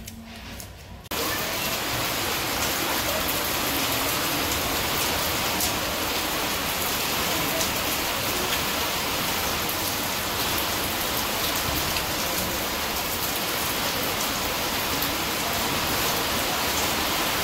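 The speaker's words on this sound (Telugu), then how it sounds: "వర్షం అయితే స్టార్ట్ అయింది." Steady rain pours down outdoors in a village during a power cut, a dense, constant hiss that begins abruptly after a second of quiet and continues evenly throughout with no voices.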